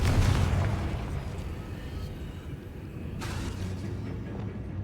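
A Confringo fire spell explodes in Hogwarts Legacy, a heavy boom that opens loud and close, then trails off into a rumbling, crackling wash of noise with a brief sharper burst partway through.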